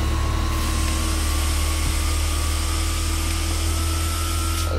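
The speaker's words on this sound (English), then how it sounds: "while we're waiting for the engine to start up, it's gonna get a bit pretty loud" A Su-27 jet engine spools up during startup in the DCS flight simulator, a steady, loud roar with a continuous whine that stays constant throughout, with no one talking.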